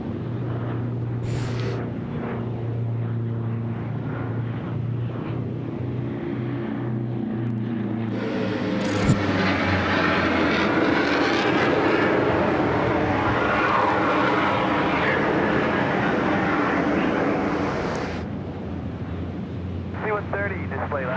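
A C-130 aircraft flying an airshow display at the Pacific Airshow Gold Coast over Surfers Paradise, its propeller engine drone swelling loud midway and fading, while people talk throughout.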